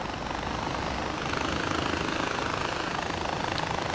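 A helicopter in the video game Far Cry 4 flies with a continuous, loud rotor chop and engine drone, steady throughout with no talk.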